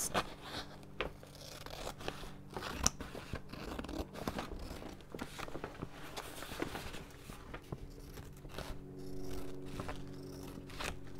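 Scissors snip through waste material to cut out a homemade placemat, a quiet, close run of irregular crisp cuts and rustling paper or plastic, with no speech.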